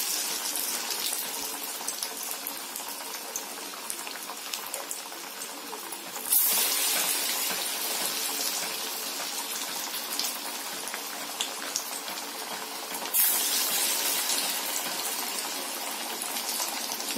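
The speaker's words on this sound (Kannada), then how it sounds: "ವಡೆ ಎರಡು ಕಡೆ ಚೆನ್ನಾಗಿ ಈ ತರ ಫ್ರೈ ಹಾಕ್ಬೇಕು." Chana dal masala vada deep-frying in hot oil, a steady, dense bubbling sizzle that continues without a break, with two brief louder surges partway through, and no talking.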